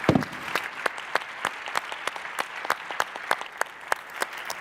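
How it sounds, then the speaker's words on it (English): An audience at a policy conference panel applauds the panelists, steady clapping from many hands in a room, moderately loud and continuous without talk. "please join me to applaud them"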